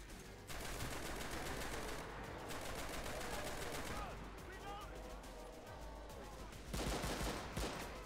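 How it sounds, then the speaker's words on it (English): Bursts of rapid Colt gunfire with a sound mod in the Enlisted video game zombie survival mode, sharp repeated volleys in several separate strings, with quieter gaps of game noise between them. "The Colt sounds so good with the sound mod."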